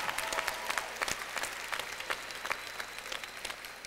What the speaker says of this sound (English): How about another cheer for them?